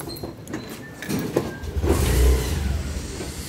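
A motorbike engine revs up nearby, rising into a loud, rough roar partway through after a quieter start.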